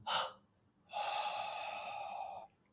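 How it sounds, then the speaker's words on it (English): Mouth exhalation during a breathing exercise: a short sharp breath followed by a long, steady, close breath out lasting over a second and a half, quiet and alone. "Now breathe out from the mouth."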